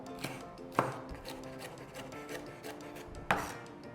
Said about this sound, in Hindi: हमारी कैप्सिकम को हम काट रहे हैं। कैप्सिकम को हम डाइसेस में काट लेंगे